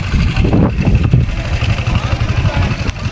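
A motorcycle engine runs steadily and close by with a low throbbing rumble, amid shouting and commotion near a short-circuit fire, with voices mixed in.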